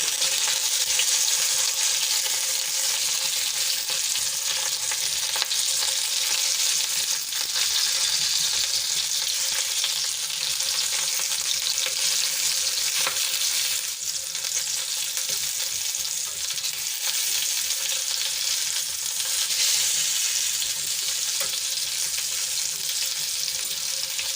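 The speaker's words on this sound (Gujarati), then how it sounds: "ધીમા તાપે આપણે એને શેકાવા દઈશું થોડી વાર થોડી વારે આપણે એને ફેરવતા રહેવાની" Stuffed Kathiyawadi chillies roast in a pan on low heat, giving a steady, even sizzle and crackle that holds at the same level for the whole stretch, close and without any voices.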